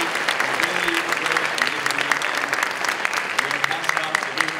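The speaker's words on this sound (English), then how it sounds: "I want your help, giving a huge round of applause for all the hackers, the organizers, the sponsors, the helpers" Sustained applause from an audience at a hackathon opening ceremony, a dense, steady clatter of many hands clapping throughout with no break.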